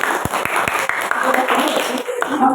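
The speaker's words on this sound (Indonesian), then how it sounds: "Tepuk tangannya mana nih?" An audience at a school talk show on tackling waste clapping, with several distinct claps standing out over a steady crowd murmur and voices talking throughout, moderately loud.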